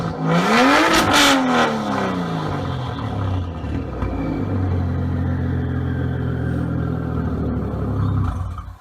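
A Ford Australia Barra engine, supercharged, revs hard with a rising, falling sweep, then settles into a loud, steady rumbling drone that holds close and unbroken, with no talk over it.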